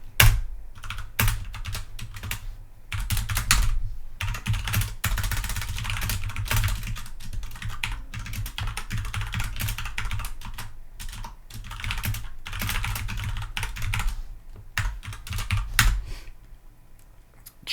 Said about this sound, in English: So if I type in my name is Bill and the password is cheese wheel